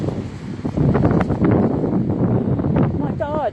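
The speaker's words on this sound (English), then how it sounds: "This wind is really blowing." Strong wind blowing at the coast at Coffs Harbour, NSW, a loud rushing buffet across the microphone with gusts rising and falling, while a person talks over it.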